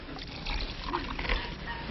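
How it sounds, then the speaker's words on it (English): Water poured from a vessel into an ordinary drinking glass held inside a hat gives a soft continuous trickle and splash, close and steady, with no talking. "Then he poured in some water"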